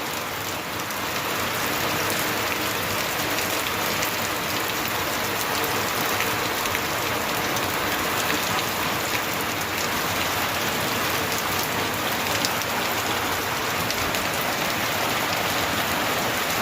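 A village downpour roars without a break, loud and close, thick rain hammering onto surfaces in an even wash of sound with no voices over it.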